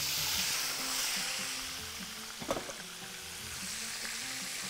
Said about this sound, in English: I'm going to add the spices into the onions and let it get gold color